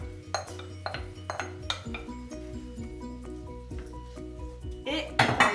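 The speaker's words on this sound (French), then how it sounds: "on rajoute les oignons." Onions go into a pan of browned beef for Flemish carbonade: light utensil clinks and scrapes under talk, then a sudden loud sizzle bursts up near the end.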